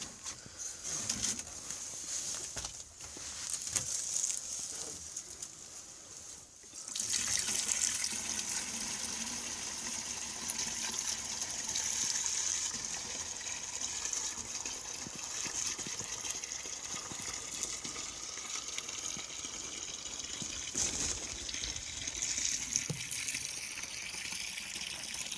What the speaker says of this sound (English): Just go ahead and fill up the rest of the gallon jug.